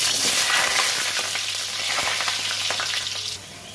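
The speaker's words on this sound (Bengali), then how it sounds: "একটা আলু ভেজে নেব।" A potato fries in hot mustard oil with a loud, dense, crackling sizzle that holds steady and then drops off sharply near the end.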